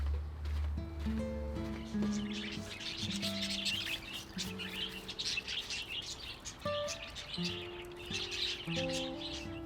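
Pet budgies chirp in a busy indoor flock, dense overlapping tweets and warbles running continuously at moderate loudness, with faint background noises and no clear speech.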